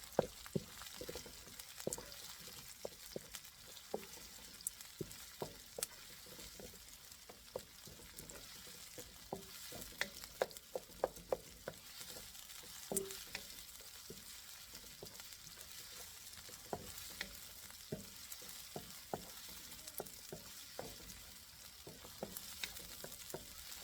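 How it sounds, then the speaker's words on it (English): Small onions sauté in a pan with a faint, steady sizzle, broken by frequent light clicks and scrapes of stirring, with no one talking. "This is just for small onion for like sauteing."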